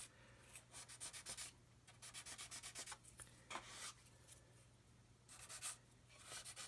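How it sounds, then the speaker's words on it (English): Sanding stick lightly rubbing over glue brush marks on a plastic model kit, a quiet, close series of short scratchy strokes in bursts with brief pauses between them, no voices present. "just lightly sand these areas here where I've got the brush marks from the glue application"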